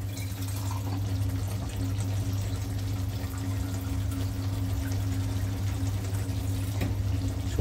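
Water pours steadily into a pan of cooking chicken, a continuous close splashing stream with a low background hum throughout.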